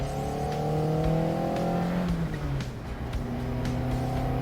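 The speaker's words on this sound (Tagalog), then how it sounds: "pag narinig mo yung hagok ng throttle body, para kang may musical instrument na dala" A Toyota AE86 Sprinter Trueno GTV four-cylinder engine revs with a throaty throttle-body intake growl, its pitch rising and falling steadily and close up for several seconds with no talk.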